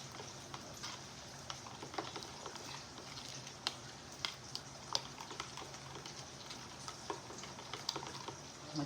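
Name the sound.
stirring spaghetti sauce in a pot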